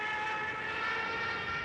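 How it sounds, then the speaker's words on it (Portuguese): A sustained, droning siren-like wail from a World War II dive bomber siren, with steady harmonic tones, loud and continuous throughout, no talking. "As sirenes dos bombardeiros serviam para aterrorizar os soldados, aumentando o medo de um ataque."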